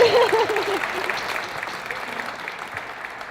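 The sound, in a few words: audience applause from Wildcat fans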